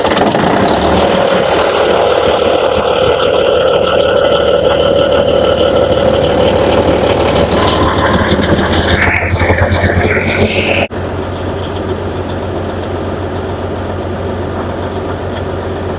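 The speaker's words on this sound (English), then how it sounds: "The lagoon pump has been fired up, and next is the main pump." Main pump engine on a Canadian farm pumping liquid manure to winter wheat fields, running loud and steady with a deep drone and shifting mid-range tones, dropping to a lower, even hum partway through.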